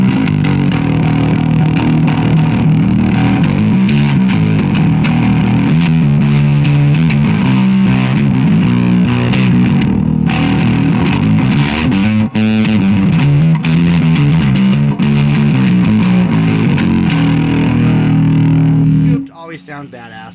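A 1950s electric bass through a Big Chunky Cheese Loveclone distortion pedal plays a thick, gritty riff with strong low end, continuous and loud for most of the clip before cutting off near the end.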